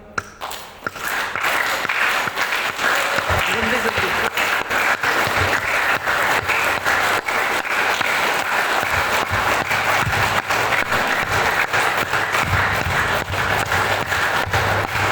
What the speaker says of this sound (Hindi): तो इसको आपने ताली बजाएंगे ना